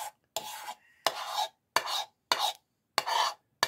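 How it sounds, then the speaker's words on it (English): A spoon scrapes a bowl of cranberry sauce in six or so short, close strokes, each a brief gritty rasp separated by silence. "So I'm just going to scrape my bowl just one last time."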